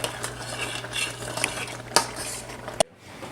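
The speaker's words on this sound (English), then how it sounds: "since our rice is boiling, you want to just stir it around so it does not stick to the bottom of your pan" A spoon stirring boiling rice in a pan, scraping and clinking against the metal in irregular strokes with a couple of sharp knocks, close and fairly quiet over a faint bubbling background.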